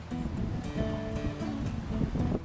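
Wind gusts roar across the microphone beside Charlotte Harbor at the Punta Gorda yacht basin, a continuous low buffeting rush with uneven surges, heard alone without talk.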